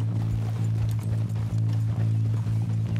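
Steady clip-clop of a draft horse's hooves in Red Dead Redemption 2, a close, continuous rhythmic plodding over a constant low hum, with no talking.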